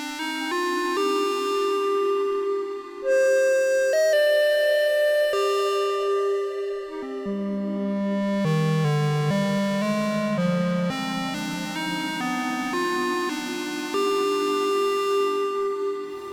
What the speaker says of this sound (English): The first one is a clarinet that sounds like this.